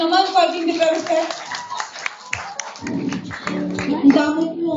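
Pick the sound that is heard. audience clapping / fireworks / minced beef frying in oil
audience clapping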